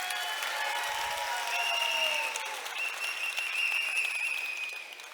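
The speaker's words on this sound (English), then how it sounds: "So let's give him a round of applause," An audience applauds at a July 4th stage performance during a community retreat, steady clapping held at a moderate, even level while sustained bright musical tones ring over it, fading slightly toward the end.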